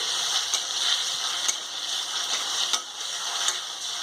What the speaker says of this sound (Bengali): আঁচটাকে আমি সামান্য কমিয়ে দিলাম এখন নাড়াতে থাকছি